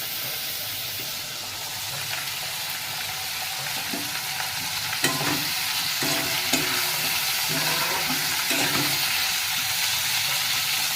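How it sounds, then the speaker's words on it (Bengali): Food sizzles steadily in a hot pan while a spatula stirs it, giving a run of rhythmic scraping strokes over a constant frying hiss. "একটু নেড়ে ছেড়ে নিই"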